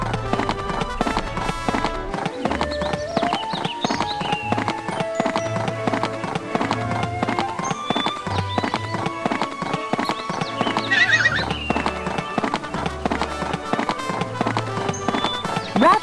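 Horse hooves clip-clopping rhythmically with occasional neighs in the video game Barbie Riding Club, over light game music, with a voice speaking briefly.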